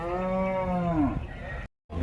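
Cattle moo loudly and close at a cattle market, one long drawn-out call that sinks in pitch before a short silence and a faint return of background noise.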